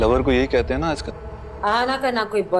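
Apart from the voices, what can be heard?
None of the usual background noises is heard.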